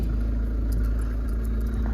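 A silver Skoda Yeti 2.0 TDI diesel with 102,944 miles idling right after starting, a steady low rumbling engine with a faint rattle, close and even throughout the short stretch, no talking.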